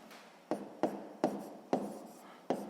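Handwriting in Ukrainian for a sixth-grade maths exercise, a pen scratching across paper in close, quiet strokes, with about five sharp onsets at roughly half-second intervals, each trailing off into soft scraping.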